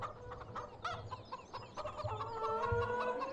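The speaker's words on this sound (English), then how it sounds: "Here's the chickens, as you can hear" Farm chickens in Farming Simulator 2017 cluck and squawk repeatedly nearby, a busy overlapping chorus of short calls that grows a little louder toward the end.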